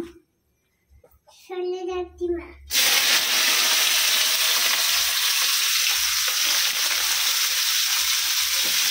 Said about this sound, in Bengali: তো এখন সবজিটা তেলের মধ্যে দিয়ে দেবো।